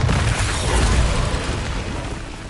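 A Bombarda spell explodes in the video game Hogwarts Legacy as a loud, booming blast with heavy low rumble that stays dense and sustained for a couple of seconds, with no voices over it.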